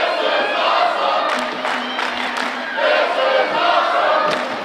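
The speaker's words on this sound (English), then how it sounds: "Crowd loving every second of the action here in the Scottish Rite Temple, chanting, "This is awesome."" A wrestling crowd in the Scottish Rite Temple cheers, yells and chants in a rhythmic unison, loud and boisterous throughout.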